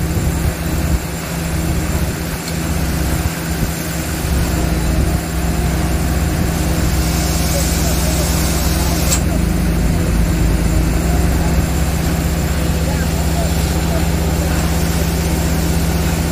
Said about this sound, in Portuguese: O compressor tá ligado, o gerador lá, então... Muito barulho